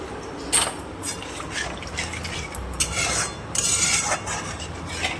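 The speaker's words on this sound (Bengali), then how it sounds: "এবার আমি একটু পরিমাণ মতো জল দিয়ে দেবো।" Water poured into a pan of spiced curry base with ground pepper, a close, splashing pour with bursts of liquid rushing and faint scraping, alone without voices.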